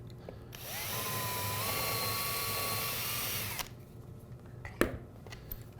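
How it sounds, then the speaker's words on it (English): A power drill drives a screw into a router plate on a wooden workpiece, its steady whine running for about three seconds before stopping, then a sharp click. "And put my second screw in."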